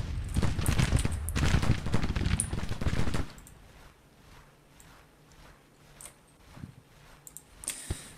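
Dense rapid bursts of automatic gunfire and explosions in a war video game, loud and sustained for about three seconds, then quieter scattered distant shots and booms.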